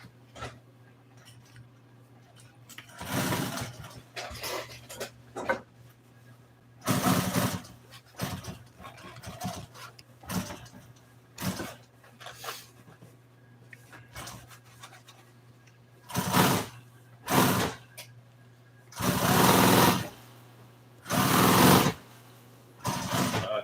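An upholstery sewing machine stitches a Polaris seat cover in short bursts of rapid mechanical whirring and ticking, separated by quieter pauses, close to the microphone over a steady low hum.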